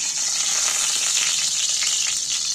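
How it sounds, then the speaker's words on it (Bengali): Chicken meat frying in oil already used to fry onions, giving a loud, steady, close sizzle that runs continuously with faint stirring underneath. "এবার আমি মাংসটা তুলে দিচ্ছি তেলের মধ্যে।"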